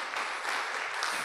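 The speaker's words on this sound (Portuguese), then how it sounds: "Uma salva de palmas para Jesus na sua vida." Congregation clapping at a Sunday morning church worship service, a steady dense wash of hands filling the whole brief moment without pause.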